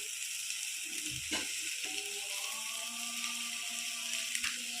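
Potato samosa filling with coriander and ground spices stirred and frying in a pan over a medium gas flame, a steady soft sizzle with a few scraping stir sounds near the start, no talking.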